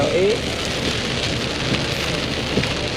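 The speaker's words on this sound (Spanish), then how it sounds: "lluvia de nuevo" Heavy rain pours steadily at Gin Springs, Florida, a dense continuous hiss of drops on surfaces, with a brief voice at the start and no pause in the downpour.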